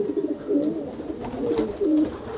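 Pigeons cooing close by as a flock gathers, soft throaty rolling calls repeating in overlapping phrases with no voices.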